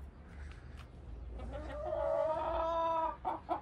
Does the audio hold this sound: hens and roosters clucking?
yes